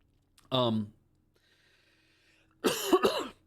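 Close-up coughing: a short vocal cough, a quiet pause, then a harsher double cough.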